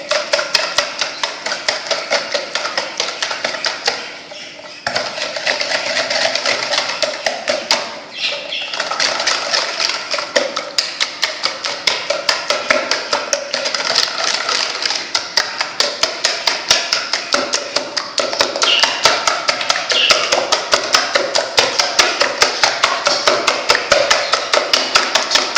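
Lemon cake batter is beaten by hand in a bowl, giving a rapid, steady run of clicking, tapping strokes that continues throughout with brief pauses, close and alone.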